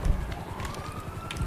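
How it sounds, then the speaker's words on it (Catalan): A police car siren in the video game GTA V rises in a steady wailing sweep, moderately loud against a dense background rumble of game noise, with no talk over it. "Merda, que hi ha la policia, Martí."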